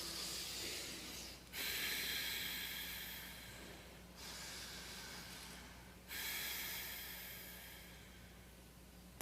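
A person breathes in deeply with a long airy hiss, pauses, then breathes again in three broad swells of breath noise, close and quiet, with no talking.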